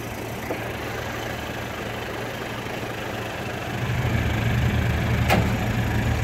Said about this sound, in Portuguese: Aí com o cabo de aço da prancha, ele puxa a caminhonete pra cima do caminhão.